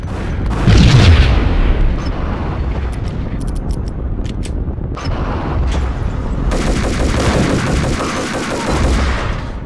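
Gunfire in the video game Max Payne, with loud booming shots and rapid bursts of fire in quick clusters, followed by a sustained stretch of heavy automatic fire.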